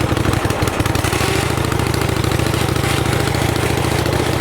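A Kohler Command small engine with a rebuilt carburetor idles steadily and close by, a low even chugging that runs throughout, with a brief rough patch near the start and no talk over it.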